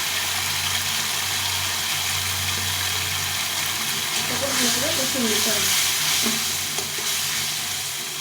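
Turmeric and ground spice paste frying in a pan for a rohu fish curry with tomato, with water splashed in, giving a steady close sizzle and a brief burst of bubbling, sputtering hiss midway.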